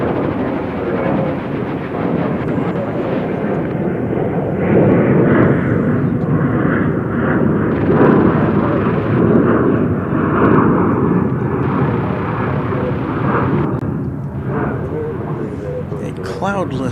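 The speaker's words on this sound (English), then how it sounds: "That was flight 1251 American Airlines. 737-800 off to Austin, Texas." An American Airlines Boeing 737-800 takes off at Dallas/Fort Worth airport, its jet engines roaring loud and sustained for the whole stretch, with a voice talking over the noise.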